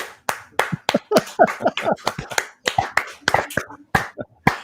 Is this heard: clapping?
yes